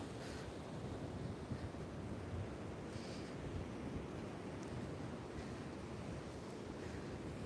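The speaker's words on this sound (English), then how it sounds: "The wind is actually making it feel a lot colder" Steady wind roars across a microphone on the Mallorca seafront at Peguera, a constant low rumble with possible surf mixed in, continuous and fairly loud with no talking.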